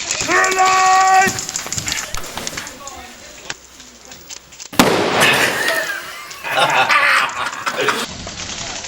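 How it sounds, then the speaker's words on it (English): An airsoft grenade goes off with a sharp, loud blast midway, preceded by cooing birdlike calls and followed by scattered noise and shouting voices on an outdoor field. "Grenade!"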